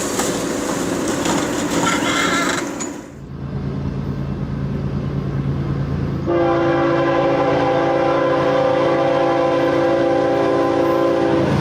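A long freight train rumbles past at a rail crossing, loud and close, with a sustained blaring horn that starts partway through and holds steady over the heavy rolling rumble.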